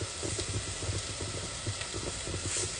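Onions sizzling in a pan with turmeric, chili and salt for an Indian cauliflower curry, a soft steady crackle and hiss with light stirring scrapes, fairly quiet and close with no talking.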